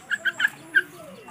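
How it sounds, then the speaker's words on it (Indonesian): Small songbirds in a mini aviary, a mix of bulbuls, weavers, doves and other species, giving four short bright chirps in quick succession followed by a softer descending call, fairly close and alone without talk. "apiari mininya juga ada beberapa jenis burung"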